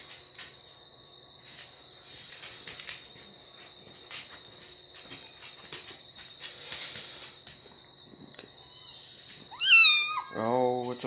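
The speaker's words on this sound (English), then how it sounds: "I hear a kitty" A cat lets out one clear, rising-then-falling meow near the end, after a quiet stretch filled with a steady insect-like drone and faint background sounds.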